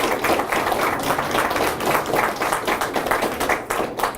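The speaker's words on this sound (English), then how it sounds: "So I think we should have a loud round of applause for the mayor." A loud, sustained round of applause for the mayor at a school attendance award event, with dense clapping from a sizeable crowd throughout.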